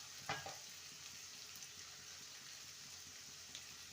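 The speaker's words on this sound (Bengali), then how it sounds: "আলুটাকে 2 থেকে 3 মিনিট ভালো করে ভেজে নেব" Potatoes fry in a pan with onions, a faint, steady low sizzle throughout, broken by a brief clatter near the start and a light tap later on.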